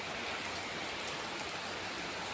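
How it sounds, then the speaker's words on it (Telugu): Heavy evening rain pours down in a continuous, even wash of hiss and patter, steady and unbroken, heard without any talk. "చాలా అంటే చాలా పెద్ద వర్షం వస్తుంది"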